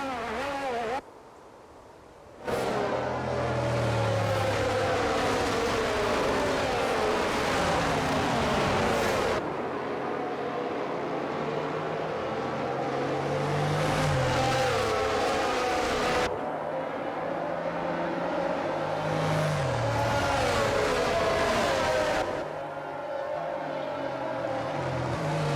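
Race car engines in the F1 22 game at the Austria track whine and scream continuously, with pitch rising and falling through gear changes and brief cuts between camera views, loud and unbroken.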